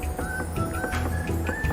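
A stand mixer turns on low speed, blending dry bread dough ingredients for soft buns in a locked bowl, giving a steady motor hum with a whining tone and faint rhythmic clatter throughout.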